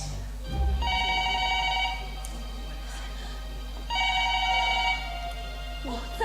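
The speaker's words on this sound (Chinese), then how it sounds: "忽然电话响了起来。" A telephone bell rings in two clear bursts separated by a pause, bright and insistent over a low steady hum, within a Yue opera stage performance.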